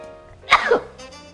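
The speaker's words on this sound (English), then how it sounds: "all this pepper and stuff will make you sneeze." A single sharp sneeze bursts out close by, with a quick inhale before it and faint background noise around it.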